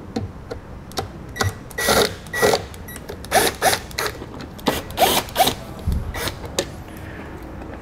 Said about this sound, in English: Now we'll take these two Phillips screws out.